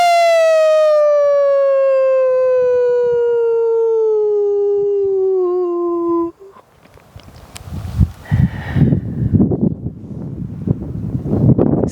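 A single long, falling howl in imitation of a wolf, held for several seconds, followed by rustling, breath and room noise.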